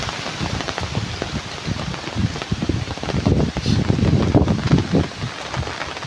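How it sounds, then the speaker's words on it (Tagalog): Heavy rain and strong gusting wind during Typhoon Kristine in the Philippines, a dense continuous wash of rainfall with buffeting wind noise against the microphone that grows rougher toward the middle. "Ang lakas ng hangin."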